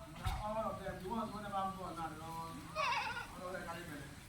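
Goats bleat repeatedly on a goat farm in Nigeria, several wavering calls at moderate distance, with people talking nearby.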